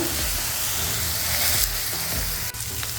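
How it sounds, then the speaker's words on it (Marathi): Garlic sautéing in a pan with a pinch of asafoetida, for a Maharashtrian kothimbir wadi snack, gives a loud, dense, continuous sizzle up close, steady throughout with one brief sharp click near the end, and no voices. "आता आपण हा छान परतून घेणार आहे, म्हणजे लसणाचा कच्चेपणा कमी होतो"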